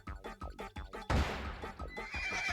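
A horse whinnies in the Miitopia game, a burst of rapid rhythmic neighing pulses followed by a crash and a trailing whinny, loud and close, with no talk.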